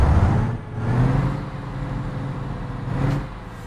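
Ikarus 256.50 bus in the OMSI 2 simulator, with no working glow plugs, being started: a low diesel engine rumble that swells, dips and surges again over a few seconds, moderately loud.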